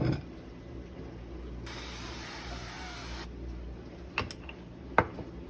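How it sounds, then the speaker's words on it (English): A single hissing burst from a cooking spray can lasts under two seconds, followed by a few sharp clicks and clatters nearby. "First, I'm going to spray my spray."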